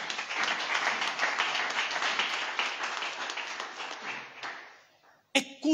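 A church congregation applauding the Lord: dense, steady clapping that keeps going for about five seconds, then dies away, with a short sharp noise near the end.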